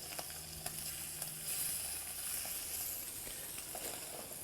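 Scallops and dorade sear in a very hot pan, giving a steady close sizzle and crackle with faint stirring noises and no talking.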